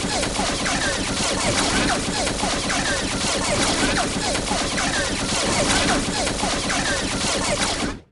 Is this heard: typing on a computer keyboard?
no